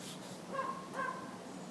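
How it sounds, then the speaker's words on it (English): Buster, a neighbor's dog next door, gives a pair of short, distant whimpering yips about half a second apart over quiet background hiss, muffled and faint. "He's usually pretty quiet, so I'm surprised he's barking so much."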